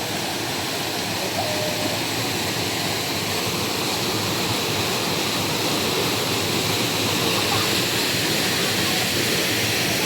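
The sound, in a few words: waterfall at Bukal Falls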